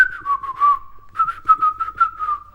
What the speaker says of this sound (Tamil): ஆக்சுவலா நான் விசில் அடிக்கிறது விசில் மாதிரி கேட்டுச்சா?